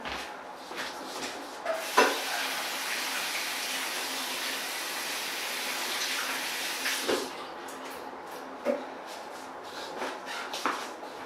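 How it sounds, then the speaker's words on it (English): Hands being washed under running tap water before a fish dissection; a steady gush of water for several seconds, then the flow stops and scattered splashes and rubbing follow, close and moderately loud. "Before I do it, just gotta wash my hands"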